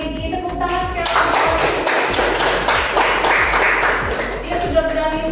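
A classroom of students claps for a classmate who just performed, steady overlapping hand claps with some taps and thumps, close and fairly loud throughout, with faint talk underneath.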